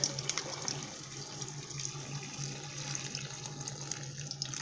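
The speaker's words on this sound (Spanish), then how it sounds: "ahora lo que yo voy a hacer es que le voy a agregar agüita" Water poured steadily into a cooking pot holding potatoes and squash, a continuous gentle splashing stream lasting throughout at moderate, fairly close volume.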